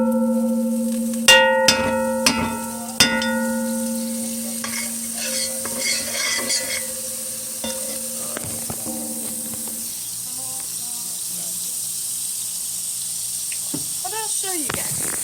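A generous knob of butter sizzles in a pancake pan with a steady, soft hiss, while ringing tones and a few clanks sound early on and faint voices come in later.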